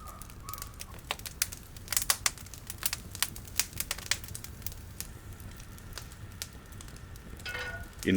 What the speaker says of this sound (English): we sear the meat on both sides